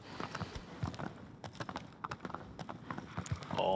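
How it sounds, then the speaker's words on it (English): Horse hooves clip-clop in a steady walking rhythm while riding in an Attack on Titan video game, mid-loud and close, with game sounds and a rising tone near the end. "I need to ride my horse, but I am allergic."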